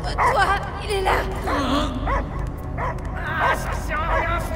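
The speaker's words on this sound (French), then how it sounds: "J'entends que des aboiements!" Cosmo the space dog barking in the video game Guardians of the Galaxy: a run of excited barks, yips and whimpers close up, mixed with game voices and background noise.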